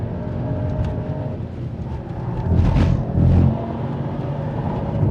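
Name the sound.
Mercedes-AMG GT 63 Pro engine accelerating at speed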